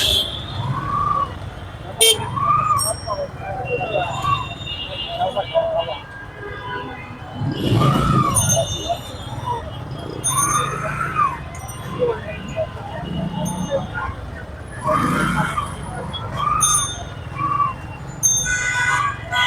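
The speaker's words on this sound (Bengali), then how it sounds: "পুরো শহর জুড়েই আজকে ভয়ানক যানজট" Busy city street choked with slow-moving traffic, with repeated car and rickshaw horn toots over a steady engine rumble, some near and loud, others farther off, continuing throughout.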